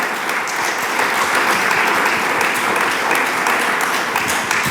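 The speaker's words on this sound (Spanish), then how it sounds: "Dele palmas al Señor." A church congregation applauds loudly and steadily, dense continuous clapping from many people that fills the room without a pause and holds at full strength throughout.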